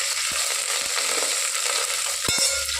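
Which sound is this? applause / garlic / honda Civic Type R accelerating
garlic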